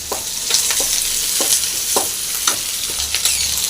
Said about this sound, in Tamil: வெங்காயம் போட்டுடலாம் பத்து மிளகாய் இஞ்சி போட்டுடலாம் பூண்டு போட்டுடலாம் எல்லாத்தையும் நல்லா ஃப்ரை பண்ணிக்கலாம்